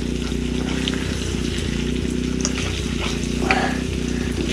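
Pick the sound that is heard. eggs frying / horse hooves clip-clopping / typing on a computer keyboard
eggs frying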